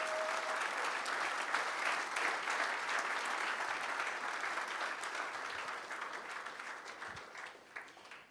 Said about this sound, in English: give them a bigger round of applause, massive round of applause